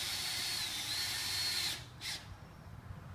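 A power drill drives 2 inch drywall screws into a ceiling, a loud, close high whir running steadily for about two seconds before stopping, followed by one quick short burst.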